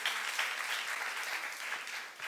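A youth congregation applauds during a sermon at a Jesus-centered church, producing a brief, even burst of many hands clapping that continues steadily without speech.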